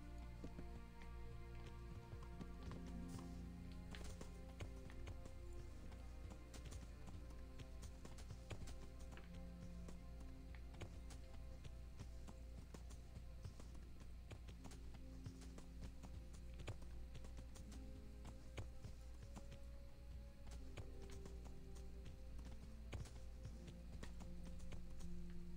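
In Kingdom Come: Deliverance, a horse's hooves clop along a countryside road in a steady, moderately distant rhythm over a constant low rumble, with scattered game ambience and no talk.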